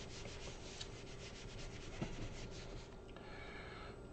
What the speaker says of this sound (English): I'm going to need to erase it.